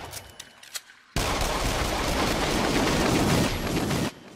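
Gunfire in the PS4 VR shooter Until Dawn: Rush of Blood bursts in after a second of quiet clicks as one loud, dense volley of rapid shots lasting about three seconds, then cuts off.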